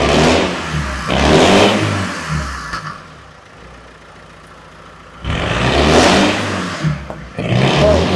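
A hatchback car with a 4x4 conversion has its engine revved, two loud surging revs separated by a quieter idle, then rising again near the end.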